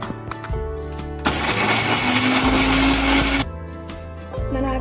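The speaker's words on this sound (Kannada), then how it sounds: "ಇದನ್ನು ಒಂದೆರಡು ಸಲ ಒಂದ್ಸಲ ತರಿಯಾಗಿ ರುಬ್ಕೊಳ್ಳಿ" A mixer grinder pulses small raw mango pieces coarsely in its jar, a loud whirring motor burst of about two seconds between quieter moments of handling.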